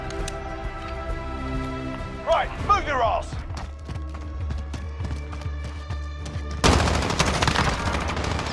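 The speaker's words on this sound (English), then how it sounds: "gunfire." Bursts of gunfire in Call of Duty: Modern Warfare crackle over a steady musical backing, with a louder, denser stretch of shots near the end.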